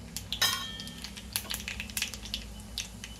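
Mustard seeds and cumin crackle in hot oil for a Maharashtrian tempering, giving close, scattered pops and a busy sizzle with a light clink of a pan or spoon, and no one speaking.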